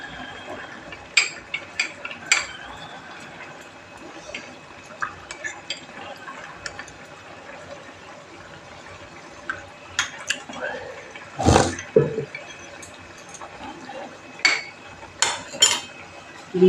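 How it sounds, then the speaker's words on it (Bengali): Two spoonfuls of cornstarch are stirred into water in a bowl for an egg chilli fry, giving scattered small clinks and scrapes of a spoon against the bowl, with one louder clatter midway, over a quiet background. "এটা জল দিয়ে গুলিয়ে নেব।"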